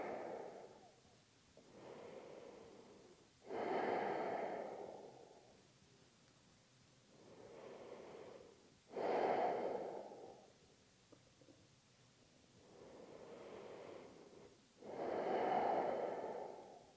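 Slow, deep breaths in and out are held during a heart-opening yoga posture, six long, soft breath cycles evenly spaced and close, alternating fuller and gentler exhales, with no talking.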